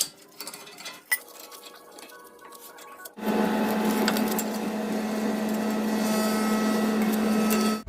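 A caliper piston spreader tool pushes the four pistons back into the bore of a 2015-or-later Toyota 4Runner brake caliper, giving a steady, loud mechanical grinding and whirring hum. Faint clicks come first, then the hum runs continuously.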